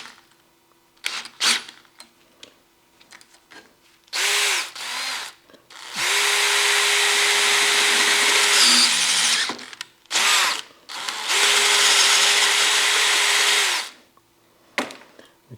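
A power drill bores into wood in several runs, steady whining bursts of a few seconds each, broken by short pauses and scattered clicks and handling knocks, loud and close.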